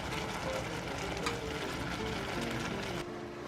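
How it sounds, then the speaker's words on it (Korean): Ramen noodles being stirred in a frying pan, a steady sizzle with continuous scraping and clattering that holds for about three seconds before dropping off slightly. "이제 라면을 골고루 섞어주세요."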